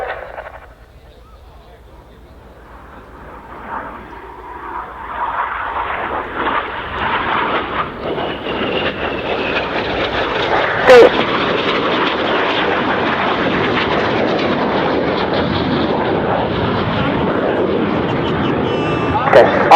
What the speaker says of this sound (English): Each aircraft will form a barrel roll, followed by a cross.